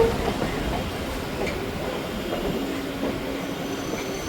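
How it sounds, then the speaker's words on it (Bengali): Local train on the Majherhat–Barasat line pulling into Eden Gardens station: a moderate onboard rumble with faint wheel squeal and soft clatter, heard from inside the carriage. "ট্রেন এখন আমাদের এসে পৌঁছেছে হলো ইডেন গার্ডেন স্টেশনে।"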